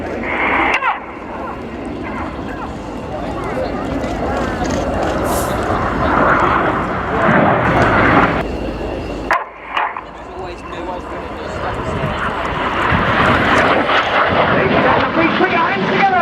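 Red Arrows BAE Hawk jets fly an air display, giving a loud, sustained roar that swells and shifts as they pass, with a crowd and a commentator's voice underneath.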